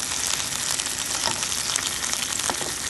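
Birria tacos fry in a hot pan with scallions, giving a steady, close, dense sizzle and crackle that runs unbroken for the full length, with no voices over it.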